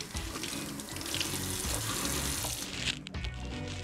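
Tap water runs steadily into a sink while ginger is washed under it, a close, continuous splashing that cuts off near the end.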